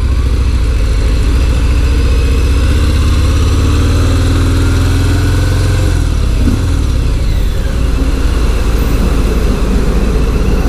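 A 2018 Harley-Davidson Fat Bob Softail motorcycle rumbles steadily during a ride, its deep engine drone continuous and loud under heavy wind rush, with a slight shift in tone midway.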